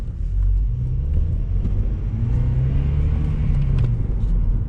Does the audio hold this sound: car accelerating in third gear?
yes